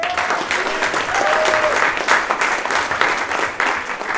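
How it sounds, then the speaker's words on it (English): Guests at a 2017 LSPC victory party applaud warmly, a full, steady round of clapping with a few brief voices and whistle-like cries inside the crowd noise. "Give them a round of applause."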